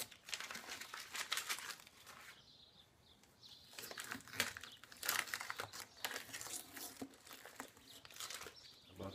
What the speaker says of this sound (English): We're going to pull off this tape and see how it looks.